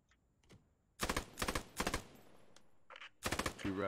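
Machine gun fire from the video game Post Scriptum, with several short, loud, rapid bursts separated by brief pauses, plus a few fainter distant shots in between.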